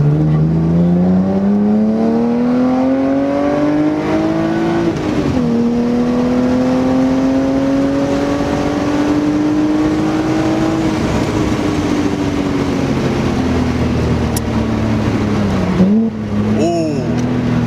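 A BMW 128i engine drones at steady revs, with sharp heel-toe throttle blips that make the pitch jump up and fall back a couple of times, loud and close.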